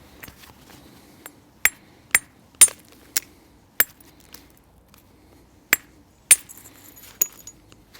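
A hammer strikes a large Brandon flint nodule during knapping, producing about nine sharp, bright, clinking cracks at uneven intervals in an otherwise quiet space.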